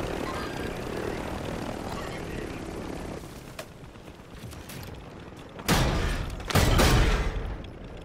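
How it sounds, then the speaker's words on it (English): Helicopter in the Warzone video game settles in to park, a dense rotor and engine rumble that fades somewhat midway before two loud bursts of noise near the end. "To park the heli."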